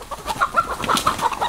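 Farmyard chickens cluck in a quick series of short, close calls as poultry is chased back home.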